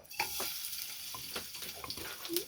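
Crushed garlic frying in cooking oil, heard as a steady close sizzle with scattered crackles and a few spoon or stirring clicks, alone without talk.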